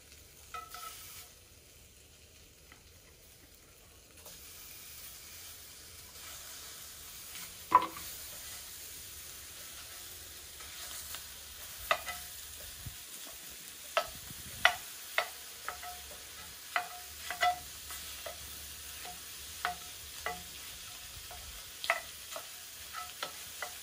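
Corned beef hash fries quietly in a pan with a soft, constant sizzle, broken by sharp taps and scrapes as it is stirred, the knocks growing more frequent toward the end.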